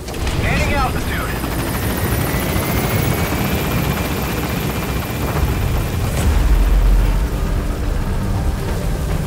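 Pequod helicopter lifting off from a landing zone in Metal Gear Solid V, a loud, steady rotor chop and engine drone that swells as it gains altitude, with a voice talking over it.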